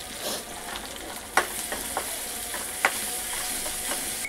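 Food sizzling in a frying pan on the stove while being stirred with a spoon, steady hiss with a few sharp scraping clicks from the utensil, close and moderately quiet.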